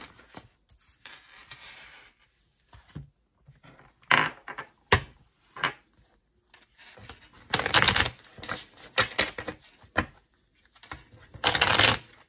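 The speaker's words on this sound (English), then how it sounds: "Just going to lay these cards down and we're going to talk about them" Tarot cards are shuffled and laid down in a series of crisp riffles, slaps and soft papery flicks, close and fairly loud, clustering in bursts near the end.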